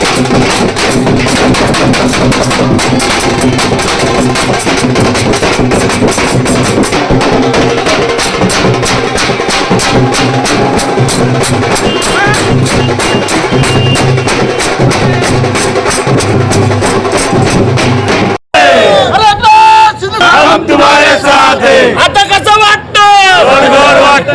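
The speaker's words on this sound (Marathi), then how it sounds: "मोठा जल्लोष करण्यात येत आहे" Crowd in Nashik celebrating a Shiv Sena Shinde faction election win: a dense, continuous roar of cheering, chanting and drumming fills the scene, then briefly cuts off and gives way to closer voices talking.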